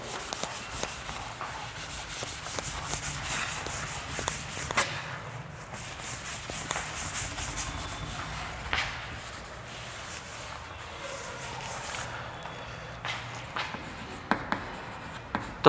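Chalk or marker writing on a board during a Sanskrit grammar lesson, a long run of close scratching strokes with brief taps and pauses, heard alone without talk.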